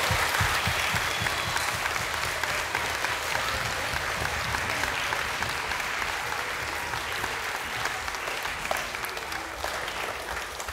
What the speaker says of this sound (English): can we just give one last round of applause to our Primary 7?